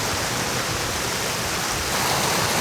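Volcanic hot spring water on Mount Gede flows in a loud, steady rush that stays close and unbroken, with no voices over it.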